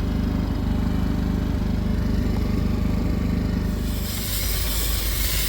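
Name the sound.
high-pressure washer spraying through a metal nozzle, car evaporator cleaning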